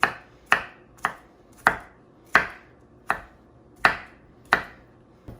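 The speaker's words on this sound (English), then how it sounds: "Diced yellow onion." A knife dices a yellow onion on a cutting board, giving eight crisp, evenly spaced chops over about five seconds, each sharp and close with a short decay, and no talking.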